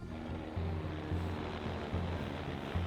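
A helicopter passes overhead near the Arizona border, a steady low rotor thump with a broad whooshing roar, moderately loud and alone, with no voices.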